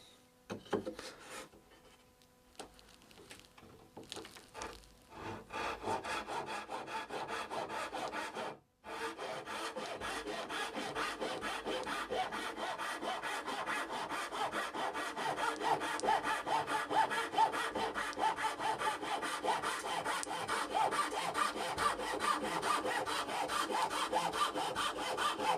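A hand saw cutting through wood to repair a split antique table top: after a few hesitant starting strokes and a brief pause, steady rapid rasping back-and-forth strokes run on continuously, close and fairly loud.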